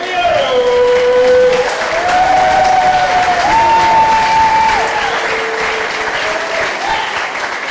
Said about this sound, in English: Please give a warm round of applause for Doris Palmeros!